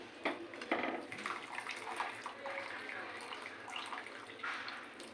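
Boiled chow mein noodles lifted out of hot water in a Kolkata street-food style kitchen give off splashing and dripping sounds, with a few sharper sloshes near the start and a steady wet trickle throughout.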